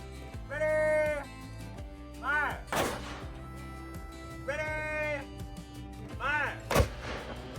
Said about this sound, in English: it was time for the cannon firing demonstration